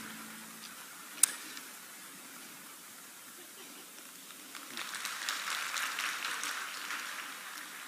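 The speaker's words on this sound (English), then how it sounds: "Please give him a big round of applause." Audience applause for a research director at an Atomy Korea academy session, starting faint and distant after a sharp tick, then swelling into a fuller, brighter wash of clapping over the last few seconds.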